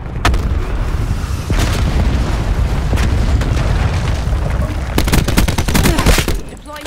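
Hellstorm missile strike in the Black Ops 4 shooter game, Team Deathmatch on the Firing Range map, a continuous roar of heavy explosions with several sharp impacts and a rapid cluster of blasts toward the end, no talking.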